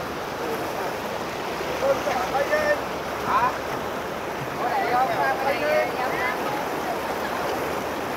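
Men wade thigh-deep across a rain-swollen mountain stream in the highlands after a flash flood, the water a steady, close rushing roar that fills the whole stretch while faint voices surface briefly twice.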